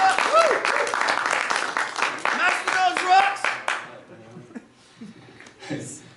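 A crowd at the CryptoCon 2018 conference applauds a speaker after his introduction. Dense, loud clapping lasts about four seconds and then fades, and a voice starts talking as it dies away.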